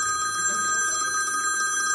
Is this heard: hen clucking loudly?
no